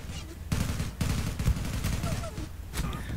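Bursts of gunfire crackle in a fast exchange of shots in the PC shooter game Zula, with short pauses between volleys and a faint voice underneath.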